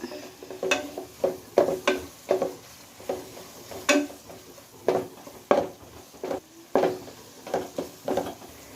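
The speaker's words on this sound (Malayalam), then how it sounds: "ഇതിൻ്റെ ഒരു പച്ചമണം മാറുന്നത് വരെ ഇതൊക്കെ ഒന്ന് വഴറ്റിയെടുക്കുക" Ingredients for kappa biriyani are sautéed in a pan, with a spoon scraping and knocking against the metal in an irregular rhythm of distinct strokes over a faint sizzle.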